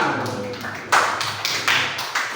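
Pupils in a classroom clap in a rhythmic pattern of sharp, spaced bursts, several loud claps repeating at a steady beat with a murmur of children behind.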